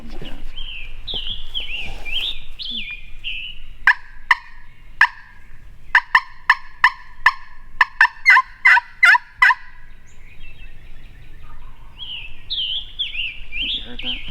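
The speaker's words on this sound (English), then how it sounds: "He's gobbling so much, it's kind of hard to tell if he's answering or not." A wild turkey gobbles repeatedly during a late-morning hunt in the Kentucky woods, loud and fairly close: a rapid run of sharp, rattling gobbles in the middle, with other bird chirps and tweets before and after.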